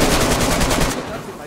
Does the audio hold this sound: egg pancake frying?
no